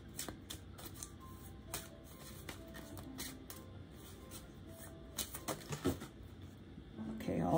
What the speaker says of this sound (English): These cards are about to start spilling everywhere.